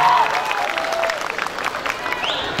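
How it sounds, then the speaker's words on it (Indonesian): An audience at a 2016 cultural parade claps and cheers in brief, dense applause for a Maluku dance, with a voice carrying over the crowd. "Aplaus dulu lah buat daerah Maluku."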